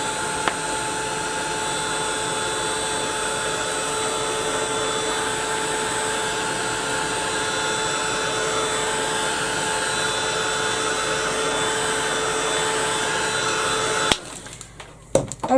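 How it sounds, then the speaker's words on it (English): Continuous loud whirring blast of a heat gun blowing steadily at close range for about fourteen seconds during a craft project, then cutting off abruptly with no talking. "So I'll give that another quick blast with the heat gun."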